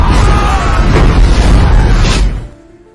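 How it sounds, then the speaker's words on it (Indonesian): In the war film Tears of the Sun, a bomb dropped from a pilot's aircraft explodes in a huge, loud, rumbling blast that roars for over two seconds and then cuts away into near silence. "Hingga akhirnya terjadilah ledakan super dahsyat yang meratakan semua pasukan"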